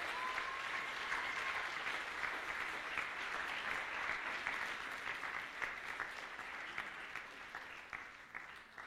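Sustained applause from a cosplay contest audience at the Swiss Fantasy Show, a thick even clapping that slowly thins toward the end into more distinct individual claps.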